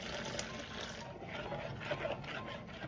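Boiling water poured from a cup into lemon jello mix, a steady, fairly quiet continuous splashing stream lasting a few seconds.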